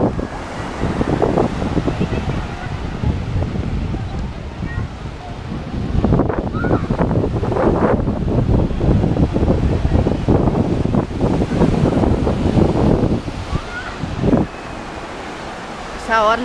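Blustery wind buffets the microphone over rolling surf at a busy beach on a clear, windy day, loud and continuous, with a voice talking at times.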